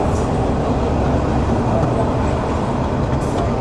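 A local train runs along line 4 at Gendaria railway station in Bangladesh, giving a continuous loud rumbling roar with a faint voice mixed into the noise.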